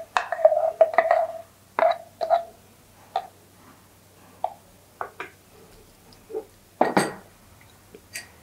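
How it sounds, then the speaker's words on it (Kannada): Smooth paste is tipped into a metal pan, followed by a scattered series of short, sharp metallic clinks and taps from the pans and utensils, close by with quiet gaps between them. "ಇದನ್ನು ಬಗ್ಗಿಸ್ಕೊಳ್ಳೋಣ ಒಂದು ಬಾಣಲೆಗೆ"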